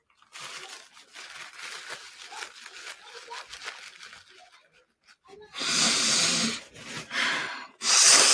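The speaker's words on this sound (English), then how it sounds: "I need to blow my nose." Someone blows their nose, with a few loud, rough bursts of air near the end after quieter breathing and crinkling sounds.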